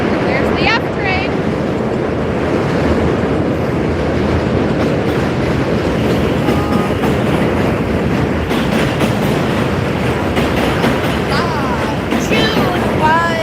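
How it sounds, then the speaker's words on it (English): A New York F train rumbles past close by in a loud, continuous roar with faint screeching wheel squeals over it, filling the whole stretch. "There's the F train."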